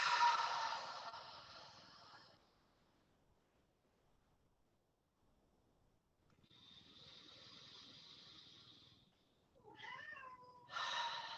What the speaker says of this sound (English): My cat's joining us too.